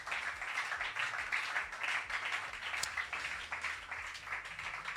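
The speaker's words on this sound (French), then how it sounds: "Nous applaudissons Saint-Esprit." A church congregation applauds together at a Friday Bible study, sustained and dense hand clapping with a loose shared rhythm, filling the room steadily from start to finish.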